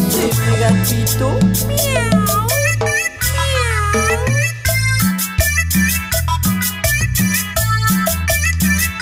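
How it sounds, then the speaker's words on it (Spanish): Cat meows repeat throughout a loud cumbia villera track, rising and falling calls layered over a steady bass beat and melody. "¡Hace mi gatito!"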